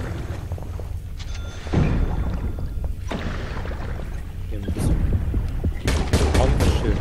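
Gunfire in the underwater shark game Depth, a few sharp shots and bursts rising over a steady rumbling underwater ambience, loudest near the end with a quick cluster of cracks.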